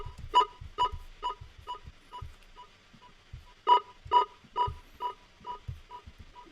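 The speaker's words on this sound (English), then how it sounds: "we found then this sort of siren sound effect" A siren-like synth effect in a speed garage production sounds as short, bright pulsing tones in two bursts, each fading through repeated echoes over soft, low thumping beats.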